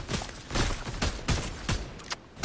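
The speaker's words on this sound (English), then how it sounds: "Oh, yep, they're shooting back." Repeated bursts of gunfire from a Fortnite match, loud, dense and rhythmic, roughly every half second over a steady noisy background.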